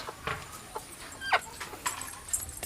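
Chickens cluck and squawk in short, scattered bursts around a farmyard, moderately close, with light background noise and no clear speech.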